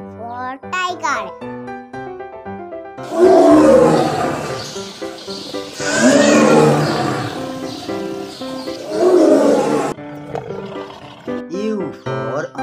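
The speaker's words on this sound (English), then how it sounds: "T for tiger." Three loud tiger roars in a row fill a children's phonics song, each swelling then fading, with a voice speaking before and after them.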